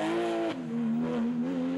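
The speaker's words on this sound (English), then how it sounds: "this is Tim Van Perry's back in the Porsche GT3" A rear-wheel-drive Porsche GT3 rally car on an East Belgian Rally stage revs hard and holds a strained, high engine note that dips briefly as it shifts, loud and close, with no talking.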